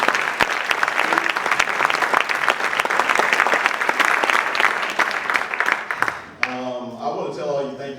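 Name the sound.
applause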